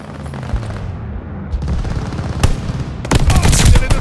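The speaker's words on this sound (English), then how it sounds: "Allies calling a mortar barrage. Friendly bombing run on the way." Mortar barrage and bombing-run explosions in Call of Duty: Vanguard, with dull booms building in strength and rattling gunfire over a steady roar of combat. Heavy blasts crowd together in the final second.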